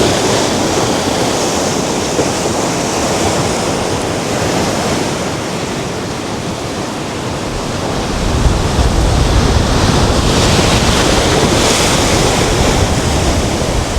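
Ocean waves crash and wash onto a beach at sunset in Tenerife, a steady broad roar that swells louder partway through, with some wind and no voices.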